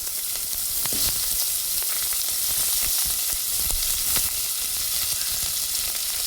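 Mustard seeds and onion fry in a pan for lentil sambar, producing a loud, continuous sizzle dotted with fine crackles and pops and no talking.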